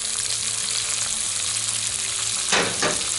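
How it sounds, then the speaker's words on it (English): Asparagus sizzles in a pan with garlic, a steady close frying hiss with a brief burst of louder crackling near the end. "So at this point, I'm adding the asparagus"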